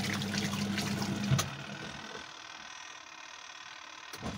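A mini washing machine runs inside a full-time motorhome: a steady mechanical hum with sloshing water, cut off by a knock after about a second and a half, then a quieter churning wash of water that continues to the end.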